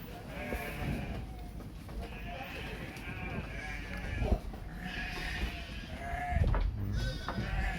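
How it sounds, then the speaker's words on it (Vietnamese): A flock of sheep on a pasture field in Vietnam bleating in overlapping calls, several voices near and far over outdoor background noise, with brief handling bumps. "Đây là đàn cừu."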